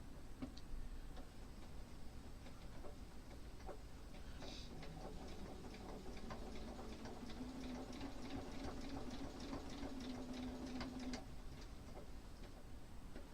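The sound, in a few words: sewing machine machine-quilting a quilt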